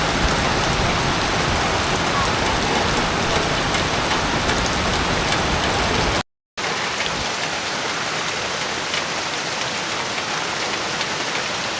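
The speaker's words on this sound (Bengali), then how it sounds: "দর্শক দেখুন কি মুষলধারে বৃষ্টি।" Torrential rain pours down in a steady, dense roar that fills the clip, broken once by a brief silent gap partway through before the downpour resumes just as heavily.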